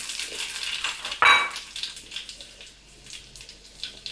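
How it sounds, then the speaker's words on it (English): Garlic, hing and ajwain stirred in a hot pan, a soft sizzle with scraping spoon strokes and a sharp clatter of utensil on metal near the start. "Now we will put ajwain and continuously stir the material"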